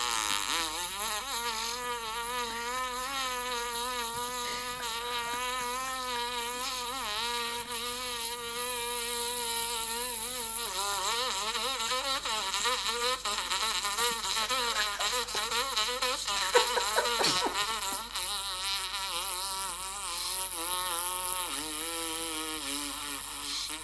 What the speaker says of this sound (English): but you have to buzz.